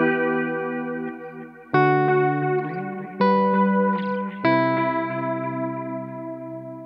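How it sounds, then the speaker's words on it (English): Guitar run through a Line 6 HX Effects modulation setting with depth and speed turned up, a few sustained chords each struck and left to ring with a wavy, wobbling chorus-like shimmer, close and alone. "you can definitely hear the waviness of the modulation going on"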